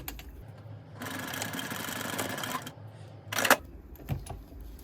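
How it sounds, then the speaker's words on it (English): A sewing machine stitches a menstrual pad hanging strap in a close burst of rapid, mechanical whirring that stops, followed by a couple of short clicks and thumps. "I'm going to sew about 5/8 of an inch out again"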